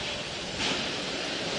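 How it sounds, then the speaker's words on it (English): Space shuttle launch pad sound suppression water system flooding before the Endeavour liftoff, a broad, steady roaring rush heard from a distance, unbroken for the whole moment. "The sound suppression water system has been activated."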